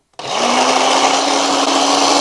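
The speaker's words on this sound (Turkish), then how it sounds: "Elmaları bir robota çektireceğim." A food processor starts abruptly and runs at a steady high whir while chopping apples for a sugar-free apple cake, loud and close with no talking.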